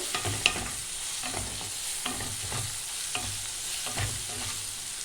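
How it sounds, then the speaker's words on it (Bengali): Tomato, chilli and spice masala frying in a pan for egg tadka, with a spoon stirring and scraping at a steady rhythm over a continuous soft sizzle, close up and with no talking. "1 থেকে 2 মিনিট ভালো করে কষিয়ে নিতে হবে।"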